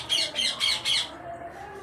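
A pet ringneck parrot squawks four times in a quick, evenly spaced burst, loud and close, with a faint hum of the room after.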